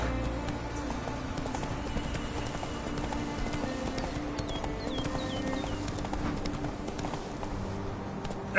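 Roach, the horse from the video game The Witcher 3, gallops in a continuous rhythmic clip-clop of hooves at close range, with faint in-game background sounds throughout.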